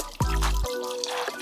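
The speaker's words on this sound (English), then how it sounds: "So we're gonna pour enough broth to where it covers" Broth pours into a pot over oxtails as a brief, close liquid splash and trickle, alone.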